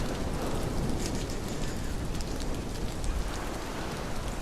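Steady rain pours in the horror game The Mound: Omen of Cthulhu on a beach, a dense, even hiss of falling drops spattering surfaces with no talk over it.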